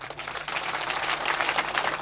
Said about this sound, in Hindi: यहां बजाओ तालियां